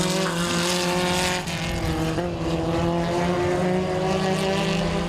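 Formula 1600 single-seater race cars at the MRF championship in Chennai roar through the final corner, engines screaming loudly and continuously with shifting pitch as they run nose to tail.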